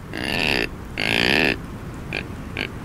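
A deer grunt call imitates a frustrated rutting buck's growl, two long raspy blasts followed by two short grunts, loud and close with no other sounds.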